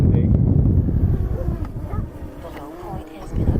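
Strong gusty wind roars across the microphone outdoors near a flying DJI drone, a steady low rumble throughout with faint voices talking underneath.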